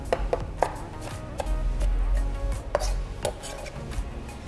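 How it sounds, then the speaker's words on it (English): A knife rough-chops tomatoes on a cutting board for a baba ganoush, a run of crisp, uneven thunks close by, some quick and clustered, others spaced apart, with no talking. "I'm just giving it a nice rough chop."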